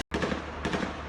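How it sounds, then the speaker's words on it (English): Rapid gunfire from a played-back video, a dense burst of shots in quick succession with a short gap at the start and a renewed volley partway through, loud and without talk. "It's the sound of gunshots."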